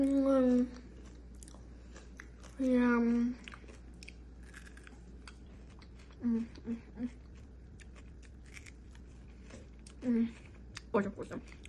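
Someone chews crunchy pistachio Dubai kunafa chocolate with soft, irregular crunching bites, while a voice speaks in short bursts between them.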